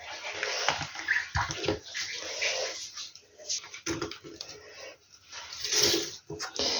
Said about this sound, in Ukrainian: І візьму трошки тепленької кип'яченої теплої води.